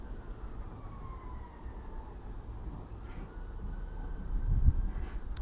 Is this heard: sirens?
yes